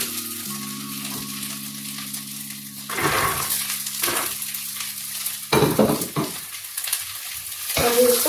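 Steady sizzling from a hot pan, with a spoon scraping and stirring through boiled peas in several bursts, close and fairly loud.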